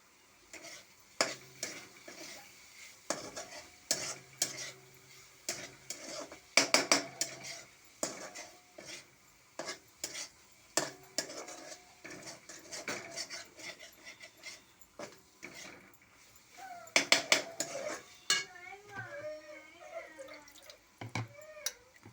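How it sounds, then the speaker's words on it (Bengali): Dried small shrimp fish being stirred and cooked in a pan, with a steady series of scraping, rasping strokes over a light sizzle, close and irregular in rhythm. "শুটকি মাছ রান্না করছি"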